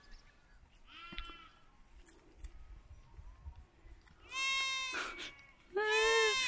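Sheep bleating in a flock out in the countryside, with loud nearby bleats arriving in two bursts after quieter, fainter calls and background noise.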